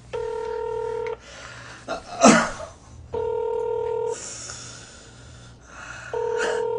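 Outgoing phone call ringback, an electronic ringing tone pulsing in roughly one-second bursts, heard three times, with shuffling and a sharp noise in the pauses between rings.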